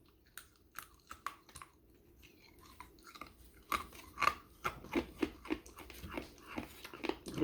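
Someone chews 34-year-old 1987 Topps bubble gum with close, wet, crunchy bites and smacking sounds. The chewing grows busier and louder as it goes on, and no one speaks.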